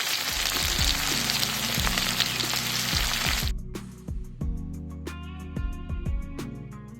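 Chicken pieces seasoned with salt, sugar and turmeric fry in a pan for chili chicken, a steady loud sizzle that drops away abruptly midway, leaving sparse clicks and a faint bubbling crackle.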